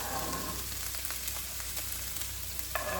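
Ginger sautéing in a hot pan for a spicy Asian peppered steak gives a steady, close sizzling hiss with a soft crackle throughout, no voices over it.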